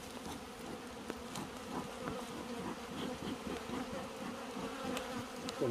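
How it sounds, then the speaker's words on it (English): A swarm of bees buzzes steadily and densely in the Jamaican hills during a wild bee hunt, a continuous close drone with no talk over it. "Get the bees and smoke up."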